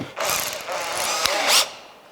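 A cordless combi drill whirs loudly as a self-centering bit bores into wood while fitting a mortice lock, with a brief pause and a sharp rising burst near the end.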